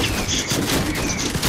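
A Recycler weapon fires in Fortnite, a quick, loud burst of rapid gunfire that runs through the whole short moment.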